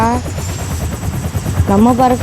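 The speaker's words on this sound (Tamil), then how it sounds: "ஓகே ஹெலிகாப்டரில் பறந்து போயிடலாம்." A helicopter in the Roblox video game drones with a steady low rotor chop throughout, while someone talks over it near the start and end.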